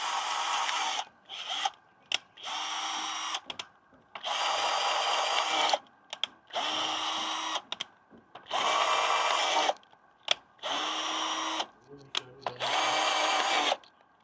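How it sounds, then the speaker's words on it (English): A power drill bores holes through the bottoms of plastic planting containers on a farm in Jamaica, whining in about nine separate loud bursts with short pauses between, close up. "So I'm going to bore some hole at the bottom of these things"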